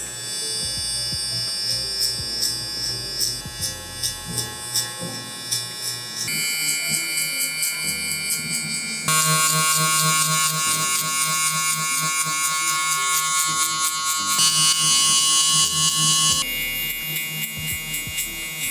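Electric hair clippers fitted with a guard blend a taper in a barbershop, a steady loud buzz running throughout with shifts in pitch and intensity as the clipper works through the hair.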